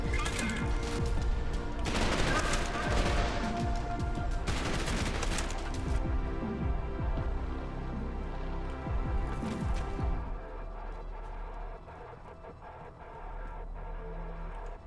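Rapid bursts of video game gunfire rattle loudly for about ten seconds as enemies are shot, dense and close, before thinning into quieter scattered shots.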